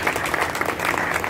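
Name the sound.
loud applause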